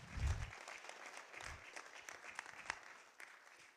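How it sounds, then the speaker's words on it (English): Audience applause for a guest speaker at a talk on global terrorism, a fairly faint wash of clapping with a low thump near the start, thinning out over a few seconds. "A huge round of applause,"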